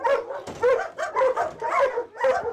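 Dogs at an animal shelter bark in quick repeated bursts, close and fairly loud, with whimpering yips mixed between the barks.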